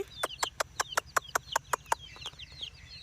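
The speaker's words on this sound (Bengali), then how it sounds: "এই মুরগির বাচ্চাগুলো কিন্তু করকনাথ মুরগি" Kadaknath chicks call in a quick, even series of about a dozen sharp, high peeps, close by and clear against a faint low hum.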